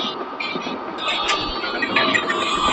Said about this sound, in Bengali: ইঞ্জিনের দেখেন ড্রাইভিং সিটে আমরা বসে ট্রেনটাকে ড্রাইভ করতে পারছি